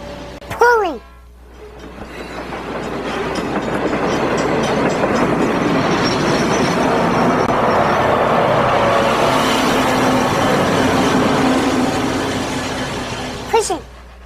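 A diesel train rolls by with a broad, sustained rumble and wheel clatter that swells and fades, with brief sharp horn-like squeals at the start and end.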